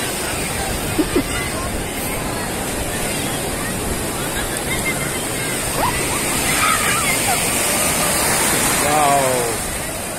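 Large sea waves at Cox's Bazar beach make a steady broadband roar of surf and wind, washing in and building near the end, with people talking and shouting nearby.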